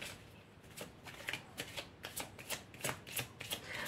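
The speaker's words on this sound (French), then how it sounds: "Je vais tirer une carte pour celle-là." Tarot cards shuffled by hand in a steady run of quick riffling bursts, close and quiet, with no talking.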